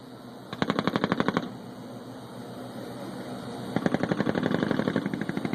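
Paratroopers' M240 Bravo and .50 caliber machine guns firing during a live-fire airfield assault: two sustained rapid bursts of evenly spaced shots, loud and fairly close, separated by a few seconds of outdoor background.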